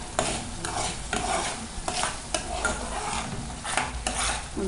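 A spoon stirs avocado pulp frying in a pan while homemade avocado oil is being made. Repeated scraping strokes sweep across the drying pan bottom in a steady rhythm over a constant close sizzle.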